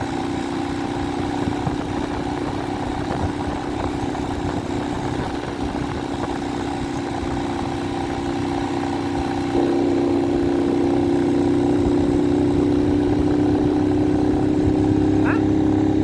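A China-made motorcycle's engine runs steadily at close range with a constant drone and a slight rise in pitch partway through, on a mountain road trip.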